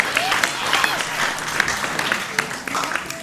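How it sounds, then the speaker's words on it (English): A crowd claps for Sam Lowe in a dense, even round of applause, with a faint voice heard underneath. "Can we have a round of applause for Mr."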